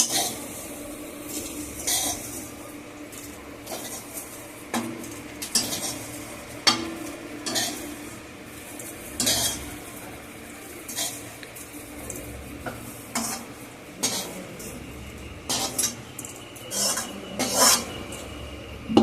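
Fried soybean chunks are scooped out of hot oil in a pan, with repeated metal scraping and rasping strokes against the pan over a faint sizzle, close and in an irregular rhythm.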